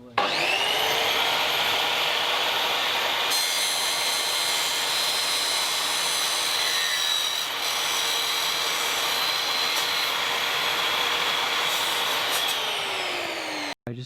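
Mitre saw set to 45 degrees cutting a board during a van floor install in a Mercedes Sprinter; a loud, steady high-pitched motor whine runs nearly continuously for about fourteen seconds with a brief shift partway through, no talking.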